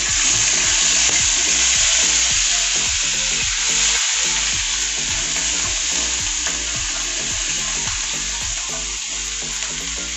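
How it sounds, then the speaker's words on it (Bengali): Onions frying in oil for a Bengali shrimp kopta curry give a loud, steady sizzle with repeated scraping stir strokes throughout. No voices are heard. "তেল ছাড়ানো পর্যন্ত আমি পেঁয়াজটাকে ভাজবো।"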